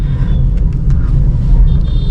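A Maruti K10 car passes close by in city traffic, a steady low rumble of road and engine noise heard from inside another car, with no talk over it.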